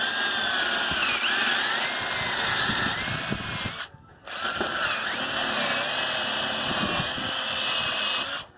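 A power drill grinds steadily into metal rebar with a high whining screech, pausing briefly midway before resuming at full volume.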